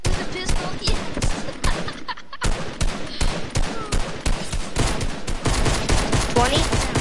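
Pistol fire in Fortnite, a near-constant run of loud sharp shots with a brief pause in the middle, mixed over busy game sound.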